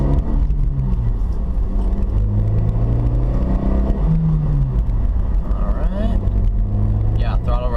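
A 2012 Honda CR-Z in sport mode with its engine rumbling and rising in pitch as it revs, heard loud from inside the car and continuous throughout.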